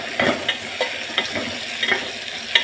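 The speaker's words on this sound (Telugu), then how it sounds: "బాగా కలిపెట్టాలి." Onions, green chillies and a pinch of turmeric stirred in a frying pan, soft sizzling under repeated scraping strokes of a spatula at a steady rhythm, close and clear.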